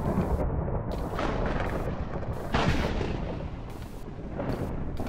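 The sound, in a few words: rocket explosion in a video game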